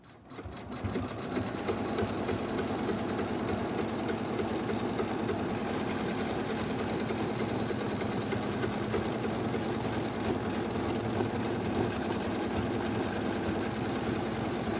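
An in-the-hoop embroidery machine stitching fabric with stabilizer in the hoop, a steady, rapid mechanical whirring and needle chatter running close and uninterrupted from start to finish after a short start-up.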